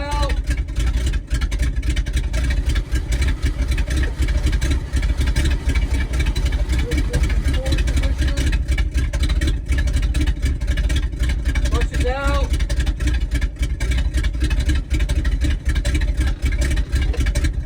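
A 1977 Chevy C65 oil rig truck's engine runs steadily and loudly up close, a continuous rough mid-pitched idle rumble with faint mechanical clatter throughout, no talk over it.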